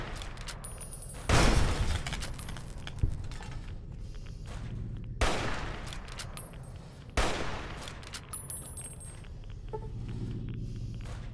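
Gunfire aimed at a turret in the video game Fallout New Vegas: a few heavy, widely spaced blasts over several seconds, loud and sharp against a low background rumble.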